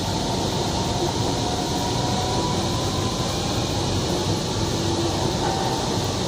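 Steady interior rumble of a Kochi Metro train in motion, a continuous broadband hum of wheels and air conditioning filling the carriage evenly, with no voices.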